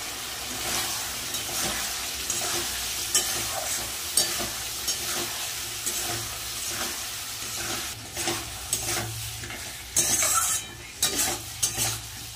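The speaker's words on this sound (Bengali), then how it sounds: "মশলা কিন্তু ভালোভাবে কষানো হয়ে গেছে, মশলা থেকে তেলও ছেড়ে দিয়েছে।" Spices with turmeric and salt frying in hot oil in a pan, giving a continuous close sizzle broken by scraping stirring strokes, with a louder burst of hissing near the end and no talking.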